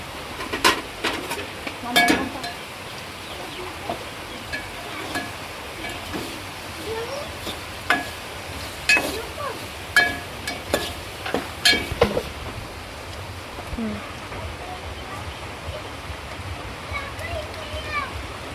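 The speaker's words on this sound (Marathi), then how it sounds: "मसाला टाकूया आपण आता मिक्स करूया" Masala is stirred into fish frying in a pan, with scattered sharp spoon clinks and scrapes against the pan over a low sizzle, a voice talking through parts of it.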